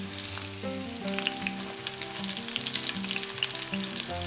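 Pork schnitzels frying in a pan give a steady, loud sizzle and crackle as they are flipped, with a low hum running underneath and no voices.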